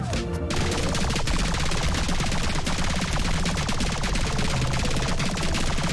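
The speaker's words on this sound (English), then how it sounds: "The bullet sounds also change per level." Continuous rapid-fire bullet sounds in the game Rhythm 'n Bullets, a loud unbroken hail of shots over pounding music, steady from start to finish.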